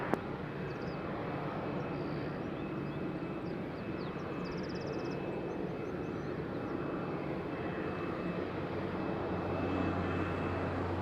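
A Ryanair airliner on approach to land at Madeira Island Airport, a steady broad engine roar held throughout at moderate distance with no talking.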